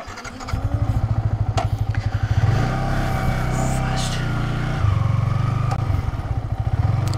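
A Yamaha R15 V3 motorcycle accelerates hard in first gear on a straight road, its close, loud engine buzzing and climbing in pitch with a brief dip as it holds near the top of the gear.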